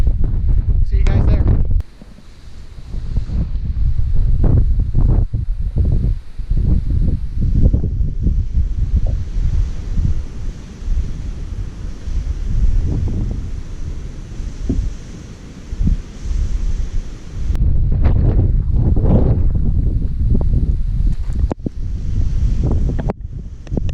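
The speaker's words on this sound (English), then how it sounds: "It's very windy, very cold." Strong, cold wind at a roadside scenic outlook buffets the microphone in loud, rumbling gusts throughout, with brief lulls between blasts.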